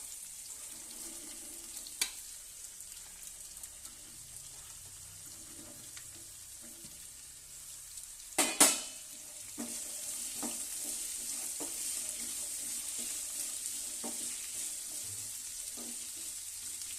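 Black-eyed peas, karamani, fry in a pan with a steady, quiet sizzle, stirred with occasional soft scrapes and one sharp clatter of the utensil partway through.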